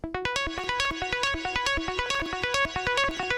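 Quick, bright synth plucks tap out a rapid repeating melody, each note snapping on and decaying fast, quiet and alone with a slightly gritty edge.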